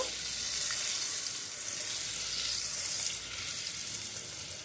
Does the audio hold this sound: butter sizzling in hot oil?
yes